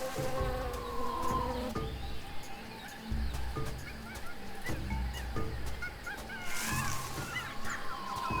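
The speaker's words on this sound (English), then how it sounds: "We can follow the bee noise, and it'll just take us back to the well at this point." A bee buzzes steadily through a video-game jungle in Tales of Monkey Island, mixed with honking bird calls and layered ambient jungle noise at moderate volume.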